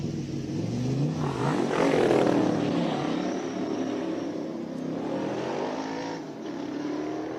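A 1965 Shelby Daytona Coupe with a 5.7-liter V8 accelerates hard at a Cape Town classic car sprint, its loud engine rising and sweeping past, then fading into a lower drone.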